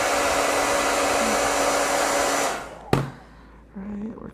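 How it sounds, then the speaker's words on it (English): A hair dryer roars steadily at close range for a couple of seconds, then cuts off with a clunk, followed by quieter handling noises while a marble skin is applied to an iPad Air 2. "they will fly away when you use the hairdryer around here"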